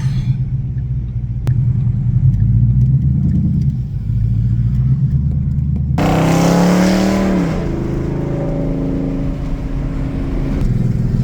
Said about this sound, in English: this thing sounds so good for just a straight pipe.